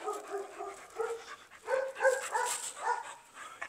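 A small pit bull dog lets out a series of close barks, yips and whimpers in uneven bursts while on a leash, with no voices over it.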